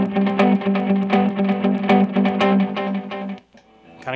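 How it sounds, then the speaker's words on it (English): Electric guitar run through reverb and delay pedals, a few seconds of loud, washy strummed chords with ringing repeats that cut out abruptly, leaving a faint trailing tail before a new attack. "If I add the reverb or the delay."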